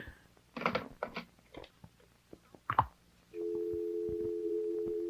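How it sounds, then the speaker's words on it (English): A telephone dial tone in a radio drama, a continuous steady hum that starts after a few clicks and handling noises and holds on alone. "It's just a dial tone."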